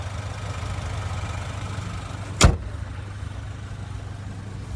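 2025 Chevy Colorado Trail Boss with its 2.7 liter Turbo Max engine idling, a low steady rumble heard close, broken once by a brief sharp knock near the middle.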